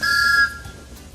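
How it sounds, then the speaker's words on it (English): A shrill toy steam engine whistle sounds in a sustained high peep, loud and close, then cuts off, leaving a low rumble. "he blew an angry peep, peep on his whistle"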